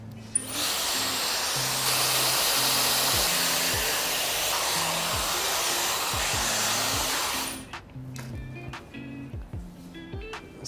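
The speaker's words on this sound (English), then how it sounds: "we're going to start drying it the opposite way" A hair dryer blows steadily on curly hair while the head is tipped back, a loud, even whoosh lasting about seven seconds before cutting off, leaving faint rustling and handling sounds.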